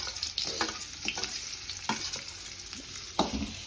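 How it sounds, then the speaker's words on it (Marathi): Onions frying in oil for poha are stirred in a pan, a steady sizzle broken by scraping strokes of the spoon, close and fairly loud with no talk. "पहिला कांदा घातलाय, त्याच्या अगोदर तेल घातलं जातं"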